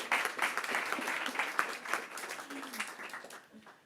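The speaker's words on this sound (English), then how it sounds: "congratulations, big applause." Audience applause at a conference celebration, a steady wash of many hands clapping close by that holds for several seconds and then tapers off.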